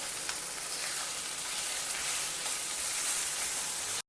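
Dondakai (ivy gourd) fry with ground nuts, red chilies, chili powder and coconut sizzling in a hot pan as it is tossed, a steady close crackling hiss that cuts off abruptly at the end.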